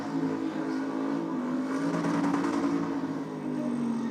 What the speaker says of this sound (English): I dare say that has succumbed to an LS swap by the sound of things.